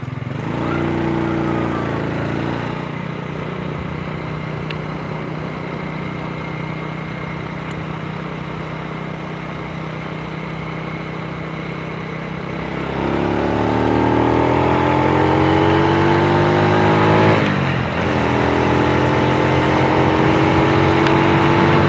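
A Honda Supra Fit motorcycle with a slipping clutch and oil seeping from the engine runs steadily near the listener, then its revs climb and hold high in a louder, rising tone toward the end.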